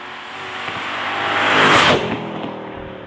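A Mercedes-Benz SLK55 AMG with its V8 engine revving, the sound swelling to a loud peak around the middle and then easing off, heard alone without talk.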